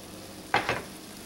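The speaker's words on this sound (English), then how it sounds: "See, I'm using a rubber spatula and I'm just kind of churning it over." A rubber spatula gently turns apples cooking in butter in a pan, giving two soft, quick stirring swishes over a faint background hiss.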